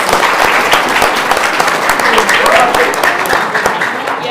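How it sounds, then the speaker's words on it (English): Loud, close audience applause for a team at a school Battle of the Books competition, dense continuous clapping from a room of people lasting a few seconds and fading slightly at the end. "Let's give Pretty Pink Unicorns some huge applause."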